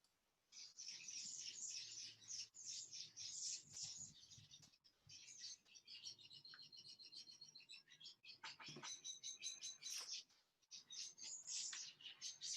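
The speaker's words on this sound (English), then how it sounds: "The birds are very friendly at yours." Birds chirping outside, a lively run of high, rapid tweets and trills from several birds, fairly close and continuous with brief pauses, with no talk.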